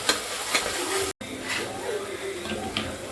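A soft sizzle of ginger garlic paste sautéing in a pan with occasional stirring scrapes, under quiet background, fairly close.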